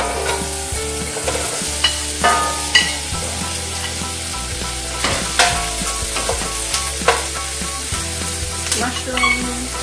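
Onions and garlic sauté in olive oil in a pan for tomato sauce, with a steady close sizzle and frequent clattering stirs from a utensil scraping the pan.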